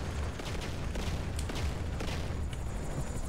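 Continuous rumbling barrage with scattered sharp blasts and crackles, like distant rockets and gunfire, at a moderate, steady level; missile fire in GTA San Andreas multiplayer (SA-MP).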